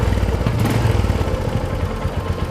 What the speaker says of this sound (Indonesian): motor ini sudah fuel injection, suaranya lumayan